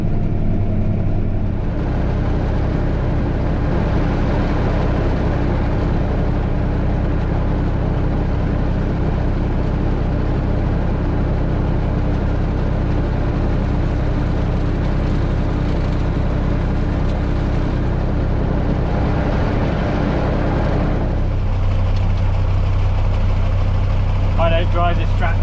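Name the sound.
Massey Ferguson tractor engine running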